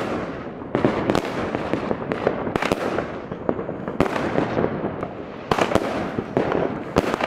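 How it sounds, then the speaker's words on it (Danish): Large New Year fireworks battery going off outdoors, a dense run of loud booming and crackling bursts with sharp repeated cracks that overlap one another, with no speech. "vi har lige fyrt de tre største batterier af, nu der er det allersidste store her"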